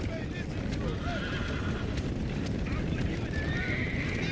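A horse in Red Dead Redemption whinnies loudly over a steady clatter of galloping hooves. A player talks over the game sounds.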